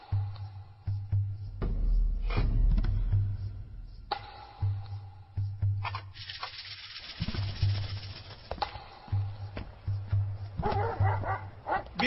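A dog barks in short repeated bursts, near and fairly loud, with a whimpering yip among them; other sounds intervene between the barking spells.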